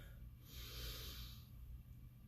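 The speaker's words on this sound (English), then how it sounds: "Deep breath in." A deep in-breath during a guided breathing exercise, one long airy inhale close to the mic and fairly soft.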